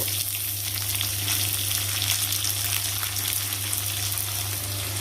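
Potatoes and carrots frying in a pan for vegetable noodles made with little oil, a steady, loud hissing sizzle running throughout.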